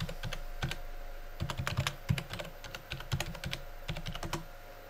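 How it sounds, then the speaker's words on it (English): Rapid computer keyboard typing as an email address is entered, with bursts of close, crisp key clicks and short pauses between runs of keystrokes, alone with no talk. "Type in your email address."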